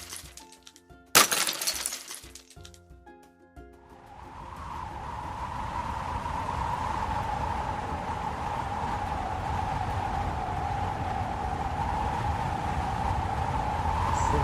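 An icicle falls from a roof and shatters in a sharp crash of glassy ice early, followed by a rising, steady whooshing rumble that continues to the end.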